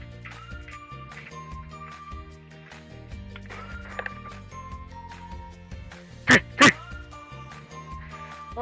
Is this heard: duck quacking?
yes